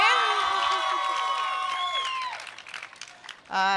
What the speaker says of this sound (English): So while these guys are cheering and yelling,